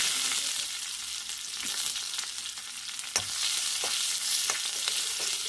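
Shallots frying in hot oil with popped mustard seeds and dried red chillies, giving a steady close hiss with scattered sharp pops and a few stirring knocks.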